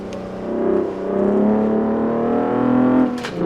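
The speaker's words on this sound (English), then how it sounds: "I got too eager and downshifted early." Race car engine in a sim racing game drops a gear early, a loud sustained harmonic drone that shifts pitch through the downshift, steady throughout with a brief click near the end.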